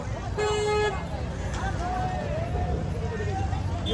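A tempo truck arrives at a village buffalo fair and gives one short, loud horn toot, followed by engine rumble and distant crowd babble.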